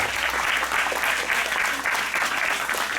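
Steady, dense applause from a concert audience, a continuous wash of many hands clapping at even loudness throughout, with a low hum beneath.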